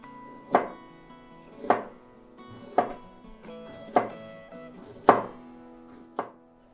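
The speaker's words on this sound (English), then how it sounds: "chop that onion." An onion chopped with a knife on a cutting board, six distinct thuds spaced about a second apart, close and fairly loud, with no talking.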